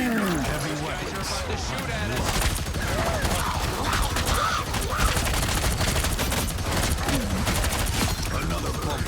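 The Punisher's turret in the video game Marvel Rivals fires a dense, rapid stream of gunshots that runs almost unbroken and stays loud and close throughout, with game voices mixed in over the shooting.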